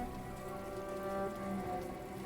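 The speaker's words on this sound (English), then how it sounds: "It just sounds like a really light drizzle, but it looks much heavier than that." Light, steady rainfall in the Hollow Knight: Silksong video game: a soft, continuous patter with faint low rumble, even and unbroken throughout, with no voices.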